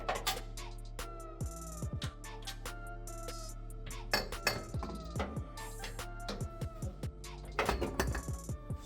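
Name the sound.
removing suspension bolts with metal clinks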